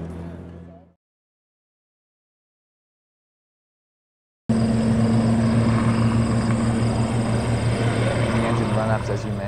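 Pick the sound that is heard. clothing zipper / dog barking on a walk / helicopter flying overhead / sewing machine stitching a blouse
helicopter flying overhead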